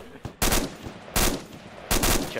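Three loud bursts of rifle gunfire in the military shooter game ArmA II, each a sharp, full-band crack with a short tail, spaced roughly evenly apart, close and dominant over a quiet background.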